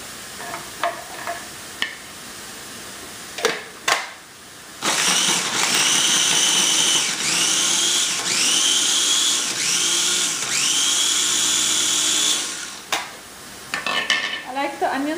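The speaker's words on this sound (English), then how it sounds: "But ginger garlic, it's okay to grind it finer." An electric grinder works on ginger and garlic for Punjabi yellow masoor dal. A loud motor whine runs for about eight seconds, its pitch dipping and rising, with scattered clicks and knocks before and after.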